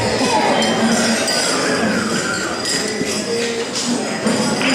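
Wedding guests clink glasses during a toast, a dense run of bright glassy chinks over a steady crowd murmur and scattered voices.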